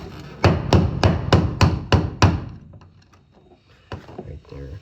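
Seven sharp, evenly spaced hammer strikes drive a fuel pump lock ring onto a 2007–2014 Chevrolet Silverado fuel tank, then quieter clunks and one more knock after a pause.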